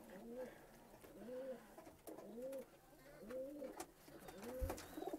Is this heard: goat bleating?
no